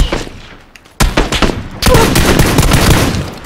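Loud, close bursts of gunfire in PlayerUnknown's Battlegrounds, a short crack followed by rapid automatic volleys that merge into sustained shooting.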